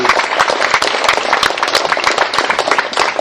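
Lunch fundraiser audience in Westlake Village clapping for their host, a loud, busy patter of many hands with crisp individual claps popping through, steady and sustained for a few seconds without speech.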